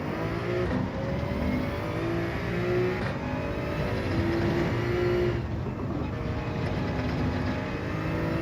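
A Toyota Supra race car engine in Gran Turismo 7 drones steadily and loudly, its pitch rising and falling as the car revs through the gears. The engine runs without pause and no one speaks.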